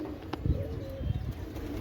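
Racing pigeons on a rooftop terrace give a few soft, low coos, a short pair of murmurs standing out over faint background hum.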